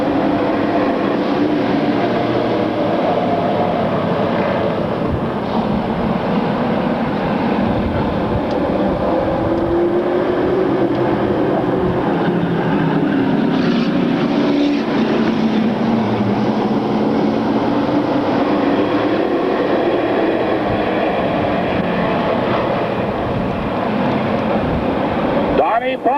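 Stock cars in a consolation round at a speedway roar steadily around the track, a continuous blended engine drone at some distance, with an announcer's voice over it.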